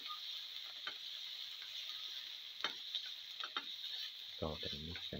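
Spices with fenugreek powder sauté in a pan, a faint steady sizzle with scattered stirring scrapes and clicks, a few louder knocks near the end, no talk.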